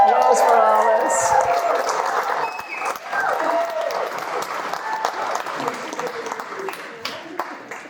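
Wedding guests break into applause for Alice, a dense burst of clapping that starts loud and gradually thins out, with voices talking over it throughout.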